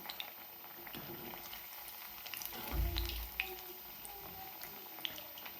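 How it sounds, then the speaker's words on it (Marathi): Food frying in hot oil, a continuous bubbling crackle with scattered sharp pops and a brief low thump partway through. "हे तळून घेऊया."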